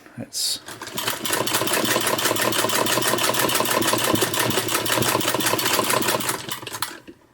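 A sewing machine with a Greist rotary buttonholer attachment stitches a narrow buttonhole with a straight stitch, a fast, even mechanical clatter of rapid repeated beats that starts after a short knock and stops near the end.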